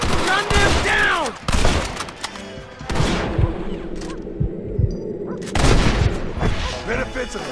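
Dense gunfire from a shootout in the video game Red Dead Redemption, with overlapping rapid shots, booming reports and ricochet whines in a loud, continuous volley, while voices shout over it.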